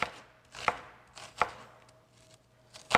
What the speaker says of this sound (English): all you're doing is just chopping your onion up